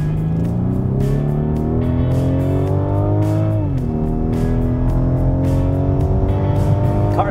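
A 2015 Rolls-Royce Wraith is driven hard through turns, its engine droning loud and steady from nearby, pitch climbing, dipping briefly mid-way, then rising again, with no talk over it.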